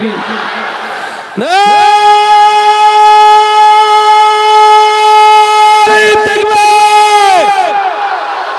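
A large crowd at an Islamic waz gathering chants the takbir in loud, sustained unison, the long drawn-out voices swelling together in the pre-dawn hours and then fading.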